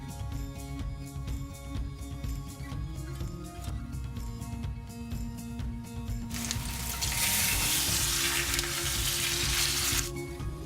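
Pork belly frying in a hot pan, a dense continuous sizzle with a faint hum underneath that swells louder and brighter toward the end.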